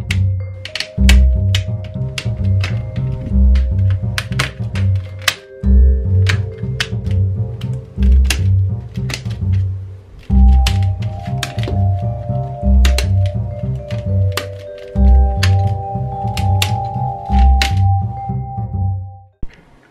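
Keycaps being pressed back onto an old keyboard during a refurbish, a dense series of sharp plastic clicks and snaps in quick bursts with brief pauses, close and loud, no talking.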